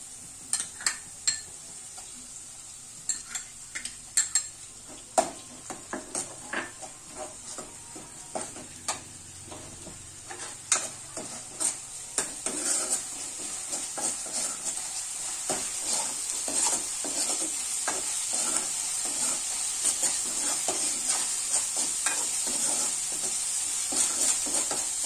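Ginger garlic paste fries in a pan with a crackling sizzle that grows steadily louder, while a spoon stirs and scrapes against the metal in repeated sharp clinks.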